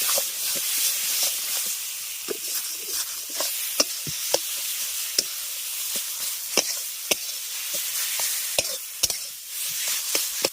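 Gram lentil paste frying with bottle gourd in a pan, a steady sizzle and hiss broken by frequent sharp scrapes and taps of a spoon stirring through the mixture, close and continuous.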